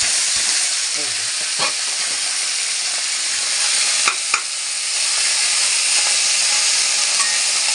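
Pea greens drop into hot oil tempered with black cumin, dried red chilli and a bay leaf and hiss loudly and steadily at close range. A few sharp clacks and stirring knocks break through the sizzle, with no talking.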